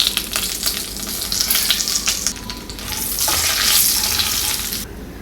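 Whole spices (bay leaves, cardamom, cloves, star anise and cinnamon) sizzle and crackle loudly in hot oil for a biryani-style meal maker gravy, a steady bright hiss with no talking, swelling briefly before cutting off near the end.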